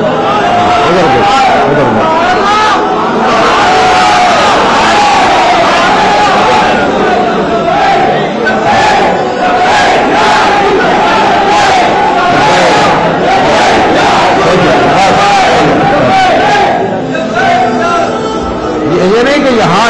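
At a Tehreek-e-Labbaik Pakistan gathering, a large crowd chants slogans loudly and continuously, with massed voices rising in rhythmic bursts for the whole stretch.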